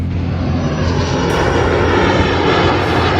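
A fixed-wing airplane's engine roars loud and steady at Salzburg airport, a continuous close drone with no voices over it.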